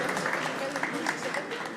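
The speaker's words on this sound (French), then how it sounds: "Vous pouvez les applaudir, s'il vous plaît." Audience applause at a French panel event on video games and neighbourhoods, a steady wash of clapping running through the whole short stretch with a few voices under it.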